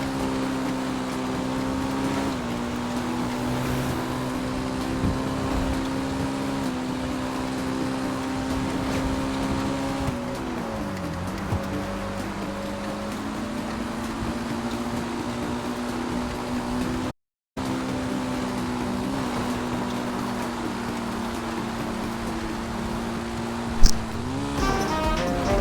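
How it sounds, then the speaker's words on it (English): The San Andreas 109 motorcycle engine in GTA 5 Online, on stock bike with slippery tires, drones steadily near and loud, its pitch rising and dipping with throttle changes. There is a brief dropout partway through, and a sharp click near the end. "San Andreas 109 bike sounds phenomenal."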